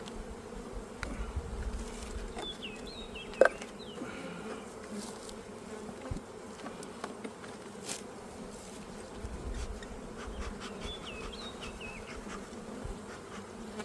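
Steady, low buzzing of a full honeybee colony in spring fills the air throughout, a dense continuous hum with occasional closer bees flying past and faint clicks.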